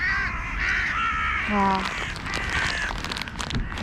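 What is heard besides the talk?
birds squabbling and calling at a feeder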